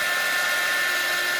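Heat gun blows steadily on a painted gift bag being made into a journal, giving a loud, continuous high-pitched whine and rushing air with no break.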